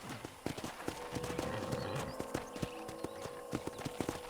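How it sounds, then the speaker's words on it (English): Horse hooves clip-clopping on a ranch in Red Dead Redemption on PS5, a steady rhythmic run of hoof strikes at an easy gait, fairly quiet, with a brief whinny-like sound and ambient noise beneath. "let's see if you can still ride a horse"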